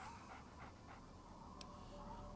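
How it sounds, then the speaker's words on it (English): The dog companion Dogmeat in the Fallout 3 video game pants in quick soft breaths with faint whimpers, low and steady beneath a constant background hiss. "You're a good boy, dog meat."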